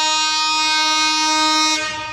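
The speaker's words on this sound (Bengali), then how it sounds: "আমেরিকান জায়ান্ট লোকোমোটিভ শর্ট উঠে নিয়ে আসতেছে 748 ডাউন সীমান্ত এক্সপ্রেস ট্রেনটি সৈয়দপুর ইন করতেছে" 748 down Simanto Express hauled by an American locomotive entering Saidpur, a loud sustained horn blast ringing for about two seconds over rail rumble, then cutting off.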